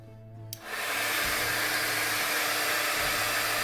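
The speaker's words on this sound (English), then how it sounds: "my heat gun works really well" A heat gun switches on with a click and ramps up into a loud, steady whoosh of blowing air that continues throughout.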